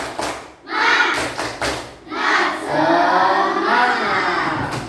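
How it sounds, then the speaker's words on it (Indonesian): A class of primary school children performing a rhythmic spirit clap chant, bursts of clapping and shouted voices in a clear repeating pattern, loud and close in a classroom. "Tepuk semangat."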